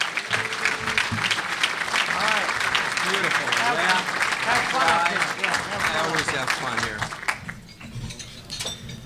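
Audience applause fills a hall as a university president, Morton Schapiro, is introduced, a dense steady clapping throughout that thins out toward the end.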